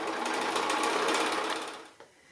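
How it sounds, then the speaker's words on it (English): An electric sewing machine runs a steady straight stitch near the edge of a fabric strip, its rapid needle chatter continuous and close before slowing to a stop. "I'm just doing a regular straight stitch just near the edge"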